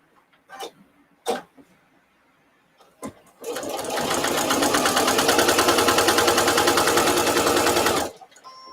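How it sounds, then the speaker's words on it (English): A sewing machine stitches a fabric placemat: a few clicks and clunks, then a loud, fast, steady mechanical run of about four and a half seconds that stops abruptly. "Now I'm going to go back up and stitch to the left of my first stitching."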